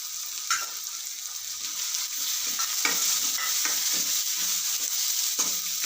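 Dry spices being stirred into softened tomatoes and onions sizzling in a pan, with repeated scraping strokes over a steady frying hiss, close and alone.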